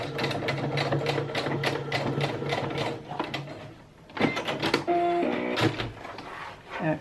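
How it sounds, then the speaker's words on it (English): A sewing machine stitches through a bra's underwire casing in fast mechanical bursts, running steadily, pausing briefly, then resuming with uneven whirring and clicking up close. "you're only sewing through the underwire"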